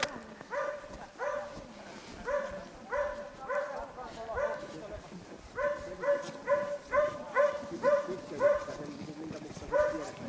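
A dog barks repeatedly in quick bursts of two to four barks, fairly close, with some whimpering yips between them while people talk in the background.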